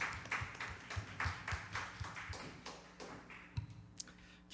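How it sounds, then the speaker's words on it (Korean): A church congregation clapping during a Sunday worship service, a steady rhythmic patter of hands at a moderate distance, fairly quiet, fading toward a few scattered final claps, with no talking. "우리 다시 한번 하나님께 영광의 박수 올려드리겠습니다."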